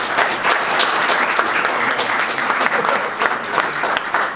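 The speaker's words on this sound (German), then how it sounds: "Ich glaube, das verdient gleich mal am Anfang einen Applaus." Near and loud, an audience at a panel discussion on Europe and Brexit claps steadily to thank the panelists, a dense, even round of applause lasting a few seconds.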